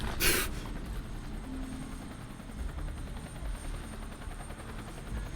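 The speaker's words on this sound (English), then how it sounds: "Everybody getting the G.I. Joe helicopter." Helicopter in the shooter game Crysis 2, a continuous rotor drone with rapid chopping pulses, steady and fairly close, preceded by a short sharp burst at the start.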